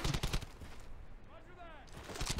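Rapid, crackling rifle and machine-gun fire aimed at an MG42 position in Brothers in Arms: Hell's Highway fills the opening and closing moments loudly. A quieter stretch in between carries a faint whistling sweep, with voices blended into the combat din.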